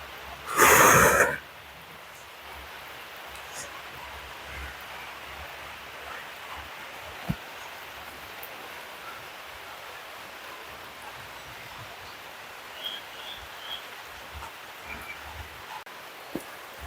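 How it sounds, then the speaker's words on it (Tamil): Heavy rain pours steadily over Valvettithurai in Jaffna, a dense hiss that stays even throughout, with a brief loud burst near the start and a few faint knocks scattered through the downpour. "கடும் மழை. நான் வந்து நிற்கிறேன்."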